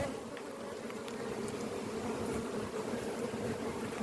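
Honeybees buzz steadily around an open hive during an evening inspection, a dense continuous drone with individual bees passing near the microphone now and then.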